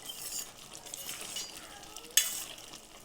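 Sweet potatoes simmer in sugar syrup in a pot while a utensil stirs them, making a soft bubbling sizzle with gentle scraping and one sharp metallic clink late on.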